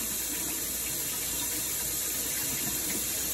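Hot water running steadily from a tap into a sink to heat a mason jar, a constant loud hissing splash with no breaks and no talk.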